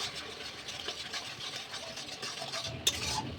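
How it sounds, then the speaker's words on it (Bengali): Mango pulp stirred in a pan while making aamsotto, a steady soft scraping and swishing with a few sharp utensil clinks near the end, no voices. "এখন আমি লাড়াচাড়া করবো আর একটু"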